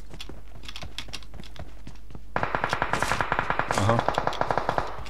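Rapid bursts of automatic gunfire in the PUBG Mobile battle royale game, a quieter stretch giving way to a steady run of sharp, evenly spaced shots that stay loud, with a brief spoken exclamation among them.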